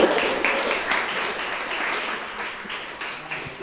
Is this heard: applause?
yes